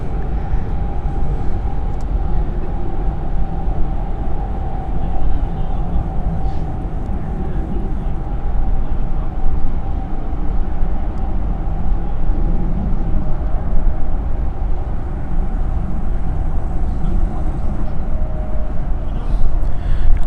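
A Lufthansa Embraer 190 jet at Frankfurt Airport gives off a continuous steady engine roar with a strong whine running throughout, fairly loud and alone without talk.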